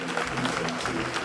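A crowd at a fight night applauding fighter Fabio Pinca, a brief, dense, steady burst of clapping at close, even loudness.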